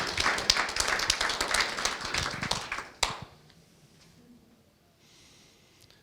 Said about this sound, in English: one more big round of applause for getting that massive milestone